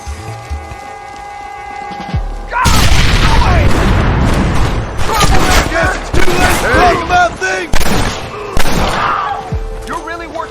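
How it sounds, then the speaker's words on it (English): A burst of explosions in a Red Dead Redemption gameplay scene: a sudden loud boom opens a dense stretch of blasts, thuds and crackling gunfire-like pops that rise and fall for several seconds before tailing off. "Explosives!"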